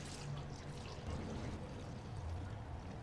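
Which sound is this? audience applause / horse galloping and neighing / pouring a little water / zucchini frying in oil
pouring a little water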